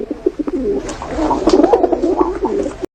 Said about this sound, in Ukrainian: Це голуб. Він сірий, з райдужною шийкою. Як вміє воркотати голуб?